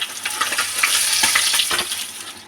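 Rohu fish frying in hot oil in a pan, a close, continuous sizzle with scattered crackles and pops, alone without any talk, fading slightly at the end.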